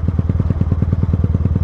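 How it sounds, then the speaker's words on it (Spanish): A Yamaha FZ16 190cc motorcycle engine, carbureted and fitted with an enlarged carburetor jet, runs close by with a steady, rapid, loud thumping pulse and a slightly rough, lumpy beat, with no talking. "Si se la escucha en la moto media trabada, así es porque tiene carburador. Obviamente le agrandó el chicle."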